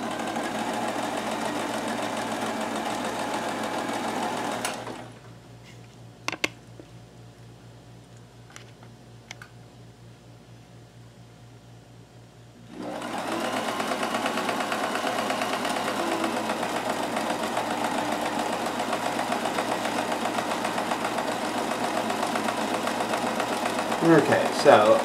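A Kenmore 158.1914 sewing machine stitches a cam pattern, running with a steady, close mechanical whir and rapid needle clatter. It stops for several seconds midway, then resumes and runs continuously to the end.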